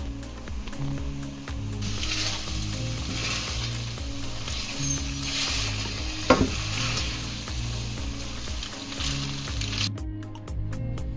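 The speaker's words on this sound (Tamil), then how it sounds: "இப்போ ஸ்பெகட்டியை ஆட் பண்ணி அதில் நல்லா கலந்து விட்டுடலாம்." Spaghetti tossed through tomato sauce in a pan with spring onion, a steady wet sizzle and scraping of stirring throughout, with a brief sharp clack of the utensil midway.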